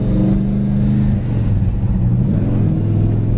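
A 1969 Pontiac GTO muscle car engine being revved, heard as a loud, close, continuous low rumble whose pitch shifts as the throttle rises and settles, with no voices over it.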